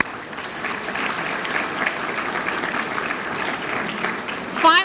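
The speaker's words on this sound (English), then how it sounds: "Another round of applause." A banquet audience for the New Jersey League of Municipalities' 100th gathering breaks into steady, full-room applause, dense clapping sustained throughout with a slight swell just before it stops.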